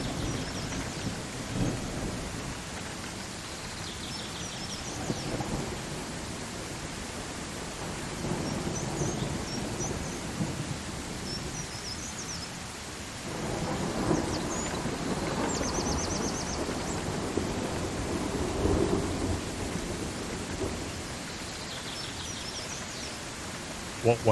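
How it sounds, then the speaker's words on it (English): Thunder rolls through a steady downpour, with rain hissing on surfaces throughout and deep rumbles swelling and fading in waves, while quiet voices murmur faintly underneath. "A thunderstorm's coming."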